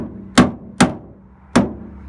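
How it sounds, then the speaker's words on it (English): A lump hammer strikes the sliding door roller on a VW T4 van three times, sharp metallic knocks spaced irregularly, close and loud over quiet background. "I'm hitting it with this lump hammer"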